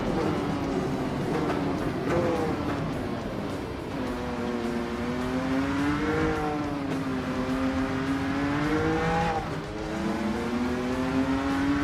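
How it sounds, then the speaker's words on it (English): A racing-game car engine in Project Motor Racing hums and revs steadily, its whining pitch rising and falling through gear changes with a constant loud drone and no talking. "It sounds like just generic car."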